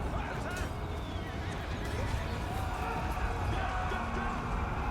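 Horses neigh and whinny amid hoofbeats and the dense clamour of a large battle between spearmen and cavalry in Total War: Three Kingdoms, a continuous loud wash of combat noise.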